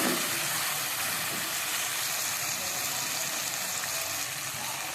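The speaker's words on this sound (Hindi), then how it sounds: "तो अभी मैं डाल दूँगी मटर।" Green peas dropped into hot masala in a pan sizzle with a steady, even frying hiss that stays constant and close throughout, with no voices.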